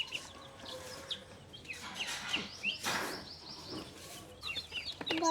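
Young chicks kept near ducks cluck and peep in faint, scattered bursts against a quiet background, with a few sharper chirps near the end.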